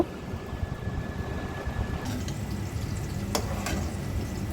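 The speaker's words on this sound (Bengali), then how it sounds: "একটা বেগুনও কেটে নিলাম বেগুনটা ভেজে নিব" Slices of eggplant fry in a pan with a steady soft sizzle under a low hum, while a couple of sharper clicks or clatters stand out near the end.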